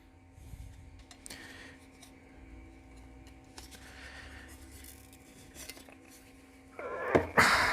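A Vevor 2+2mm spot welder set to max power joins pieces of metal; soft metallic handling clatter builds to a short, loud, crackling burst near the end.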